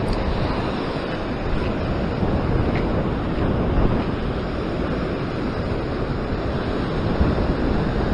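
Ocean swell crashes and washes over coastal rocks at a fishing spot near Sydney, a dense, constant roar of surf mixed with buffeting wind across the microphone.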